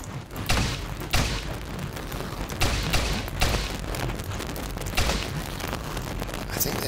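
Bursts of gunfire aimed at an enemy in the game Teleglitch, a rapid series of sharp booming shots spaced irregularly over a steady noisy background.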